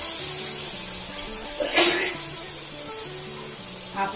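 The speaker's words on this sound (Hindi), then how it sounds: "आपको आवाज भी आ रही होगी हमारी छींक की।" A person sneezes from the fumes of very hot chillies being cooked for garlic chutney, one short sharp burst close by over a steady kitchen hiss, with a fainter second puff near the end.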